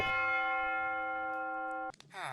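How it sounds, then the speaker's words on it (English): A single bell in the Minecraft video game tolls once with a long, ringing sustain that hangs steady, then cuts off abruptly as other game sounds take over. "The bell tolls for thee, my friend."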